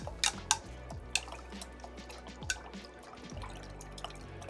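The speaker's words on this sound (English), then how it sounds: "Going to add that to the mixture. And I'm going to give it a nice stir." Mushroom liquid culture mixture is stirred in a container, giving a few sharp clinks and light, drippy liquid sounds near the start, then a quiet, steady wash of sloshing.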